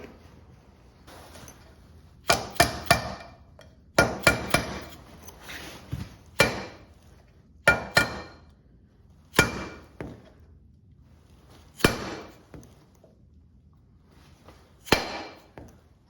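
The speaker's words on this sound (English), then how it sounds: "I'm gonna go grab a hammer" Sharp metallic hammer taps seating a front wheel bearing on a Suzuki Vinson 500 ATV, some in quick clusters of two or three, then single blows spaced a second or two apart, close up with no talking.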